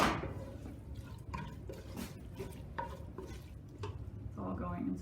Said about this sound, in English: so we're mixing them together